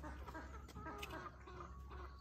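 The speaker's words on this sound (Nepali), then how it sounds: "के जातको त यो कुखुरा चाहिँ" A chicken clucks softly in a series of short calls in rural Chitlang, Nepal. The calls sit over a faint steady background hum.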